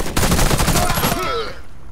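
A rapid burst of gunfire from a silenced assault rifle in Warface, fired as a quick close-range string of shots that cuts off and fades into quieter game ambience.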